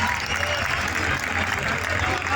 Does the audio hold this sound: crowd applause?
yes